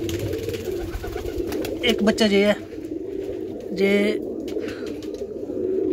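Pigeons cooing in a home loft where a pair raises a squab, a couple of throaty rolling coos standing out near at hand while someone talks over them.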